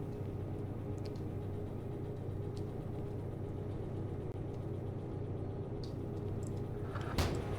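A locomotive engine runs in the Derail Valley train simulator game, a steady low rumble that holds evenly throughout with no talking.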